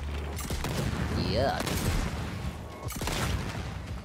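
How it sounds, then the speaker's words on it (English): Grenade launcher explosions in the video game Second Extinction: a couple of heavy booms and rumbling blasts over dense gameplay noise, with a player talking over them. "So many explosions. Yeah, I'm just popping off the grenade launcher"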